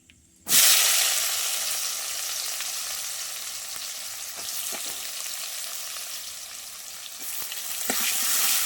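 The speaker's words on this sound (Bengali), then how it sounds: "তেলের মধ্যে দিয়ে আমি তেজপাতা দিয়ে দেবো দিয়ে আমি পেঁয়াজগুলো ছেড়ে ছেড়ে দেবো" Onions and bay leaves dropped into hot oil burst into a loud, sudden sizzle that settles into a steady, close crackling hiss, with occasional soft stirring knocks.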